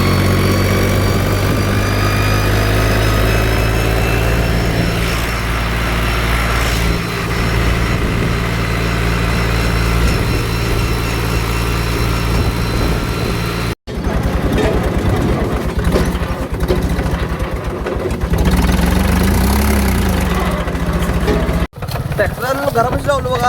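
A tractor idles beside a house, its engine a steady, loud, continuous drone that runs throughout with two brief cuts near the end.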